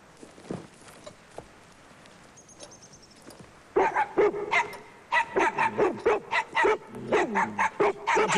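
A dog barks repeatedly in a rapid, loud, close series, preceded by a quieter stretch with faint footsteps and rustling.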